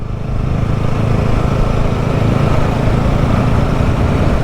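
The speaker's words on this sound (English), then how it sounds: "first impressions riding this here BSA Bantam 350. It's a feisty little thing." BSA Bantam 350 motorcycle on the move, its engine a dense steady rumble mixed with wind rush, close and loud throughout with no speech.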